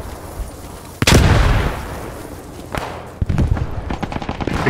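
Grenade blast in the WW2 shooter Post Scriptum, a sharp heavy boom with a long rumbling decay, followed by scattered gunshots and further pops in the battle.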